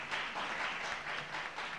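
Applause from an audience at an equipment donation ceremony, honouring the Minister of National Education; a steady, fairly faint wash of clapping continues through the whole brief moment.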